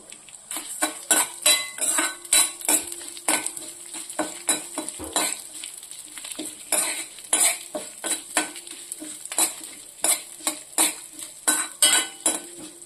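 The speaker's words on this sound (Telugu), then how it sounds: "అలాగే 3 స్పూన్లు మినపప్పు వేసుకోవాలండి. వేసుకొని వేయించుకోవాలి." Urad dal, added after coriander seeds, dry-fries in a pan with a rhythmic run of sharp scraping and rattling stirs from a utensil against the metal, near and fairly loud, with no voices.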